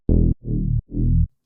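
Resonant synth bass layer made in Serum 2: three short, loud, sustained bass notes in quick succession, warm and buzzy with a dark low tone, heard alone.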